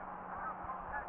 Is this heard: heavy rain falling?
no